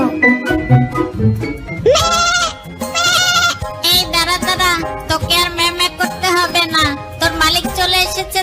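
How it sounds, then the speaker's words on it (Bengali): A cartoon goat bleats from hunger in a series of loud, close, wavering cries in repeated bursts, with a faint jingle and animated sound effects around them. "ওদিকে আমার ছাগলটা একা রয়েছে মনে হচ্ছে খিদের জ্বালায় ম্যামে শুরু করে দিয়েছে"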